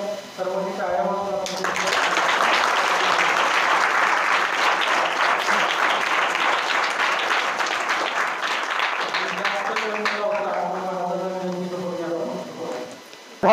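A school audience bursts into loud, sustained applause to welcome a journalist speaker at Khedbhose Vidyalaya, dense clapping lasting about eight seconds, framed by a singing voice just before and after.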